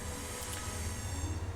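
Low, continuous rumble and hiss of a train rolling by just feet from a house, muffled indoors and steady throughout with no voices.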